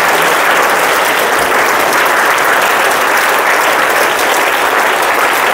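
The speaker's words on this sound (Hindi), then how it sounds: "एक बार दोबारा बजाओ अपने लिए जोरदार ताली।" Children in a school workshop clap loudly and continuously, a dense, roaring wall of applause that stays at full strength from start to finish.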